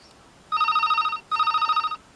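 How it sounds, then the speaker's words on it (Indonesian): A telephone bell rings in two bursts, each a bright trilling electronic ring lasting under a second, separated by a short pause, close and clear. "Perhatikan, saat berdering, lampu menyala."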